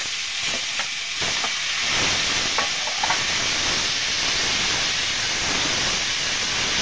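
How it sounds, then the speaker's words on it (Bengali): Onion and garlic hit hot oil in a wok and burst into a loud, close, hissing sizzle that holds steady to the end, with a few clinks of stirring at the start. "তেলটা গরম হয়ে গেছে, আমি পেঁয়াজ রসুন দিয়ে দেবো।"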